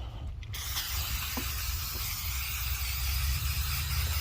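An aerosol can of paint stripper hisses as it is sprayed thickly onto the interior of a Foxbody Mustang, a continuous close spray running steadily after a short pause at the start.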